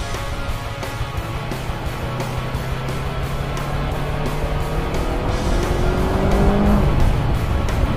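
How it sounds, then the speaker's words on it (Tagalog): A Yamaha R3 sports motorcycle engine runs steadily at high revs with a rising tonal whine, loud and close throughout, and no talking. "Yamaha R3!"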